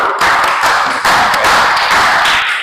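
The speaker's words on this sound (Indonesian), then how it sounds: "Oke, kita beri aplaus yang meriah dulu." Dense applause from a classroom group cheering discussion group 1 during a teaching practice session, a steady crowd clapping that holds for about two and a half seconds with no talk over it.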